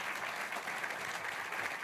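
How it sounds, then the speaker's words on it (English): Audience at a science-communication competition final applauding, steady dense clapping heard from a distance, even and sustained without voices on top. "Can we send them on their way with some applause and cheering to get them on their way?"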